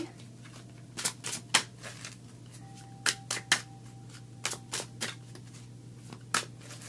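Tarot cards being shuffled by hand at a reading table, a series of soft, irregular riffling snaps and slaps, some louder where cards drop, quiet and close over a low steady hum with no talking.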